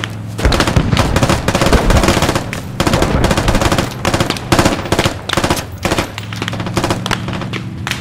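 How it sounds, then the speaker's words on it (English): Sustained automatic gunfire crackles in the large-scale military shooter Squad, with repeated rapid bursts of close, loud shots broken by brief pauses over about eight seconds, and no talking. "Keep shooting, keep shooting."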